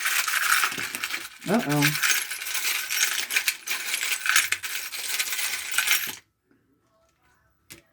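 Small metal tarot charms are cast and tumble together, a dense jingling and clattering rattle that runs for several seconds before stopping abruptly, with a brief spoken exclamation partway through.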